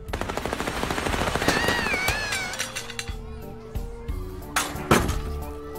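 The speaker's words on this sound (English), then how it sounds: "Now with real bullets." Rapid gunfire bursts with real bullets in the video game Little Misfortune, a dense rattling stream of game sound effects mixed with music tones, steady and loud throughout with a sharp burst near the end.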